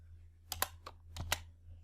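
Keys on a computer keyboard are pressed in a short burst of about five crisp, close clicks, in two quick pairs and a lone tap, with quiet steady hum underneath and no talking.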